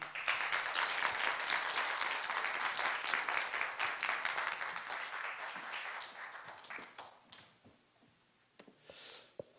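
Indoor audience claps to welcome a speaker at a forum event, a dense burst of applause that gradually thins and fades out over several seconds.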